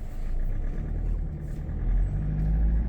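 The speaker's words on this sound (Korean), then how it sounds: "딸그닥딸그닥한 그 특유의 디젤 소리가 딱 납니다." A Mitsubishi Triton diesel engine idles at low revs below 1500 rpm with a steady, loud, low rumble and a faint rattle, heard from inside the cabin.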